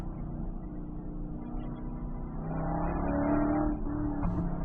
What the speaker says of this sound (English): that motor just sounds so incredibly wonderful